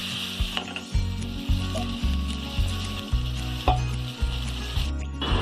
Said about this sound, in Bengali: আমি এখানে টমেটো আর আদা রসুনের পেস্টটা দিয়ে দিয়েছি, আর সামান্য একটু জল দিয়ে মশলাটা কষিয়ে নিচ্ছি।